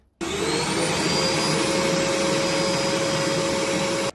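A bulky vacuum cleaner switches on and runs loud and close, holding a steady whine with a constant tonal hum for about four seconds before cutting off.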